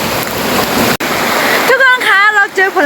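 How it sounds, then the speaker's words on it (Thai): A strong waterfall in a forest rushes with a loud, steady roar, and a voice then starts talking over the water. "น้ำนี่ไหลแรงมากเลยนะคะ แต่ว่าน้ำไหลแรงแบบนี้แหละค่ะ น้ำตกจะสวยมาก"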